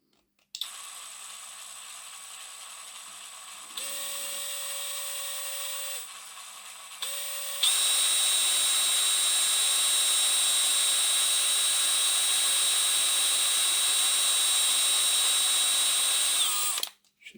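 Small drill boring carefully into a Hornby 0-4-0 tank model locomotive part, a high steady whine that steps up in pitch partway and runs continuously before stopping, close and alone.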